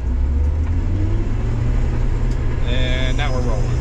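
A combine harvester engine throttles up as the header is switched on to begin cutting soybeans, a loud steady rumble with rising mechanical whine partway through, while someone talks over it.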